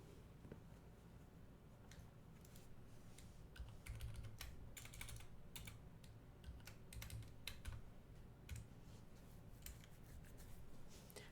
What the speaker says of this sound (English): Typing in chat just in case you can't see me